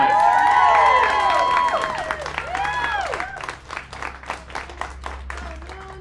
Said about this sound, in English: To give a round of applause for our next competitor